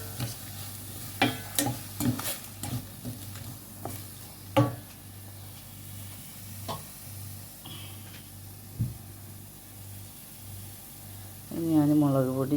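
Curry leaves sizzle in hot oil in a frying pan for fish curry, with a steady low hiss and a series of sharp scraping stirs near the start. A voice speaks briefly toward the end.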